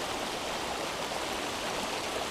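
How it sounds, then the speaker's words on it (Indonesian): Murky river water runs after a rainfall, producing a constant broadband rushing hiss that stays even and close throughout, without speech. "kita bisa melihat air sungai yang mengalir ini"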